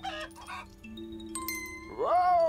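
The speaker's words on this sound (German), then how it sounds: "Die Vögel, da laufen genügend Hühner rum." Chickens cluck in the farm video game The Stillness of the Wind, with a few short calls followed by a rising squawk over soft tonal music.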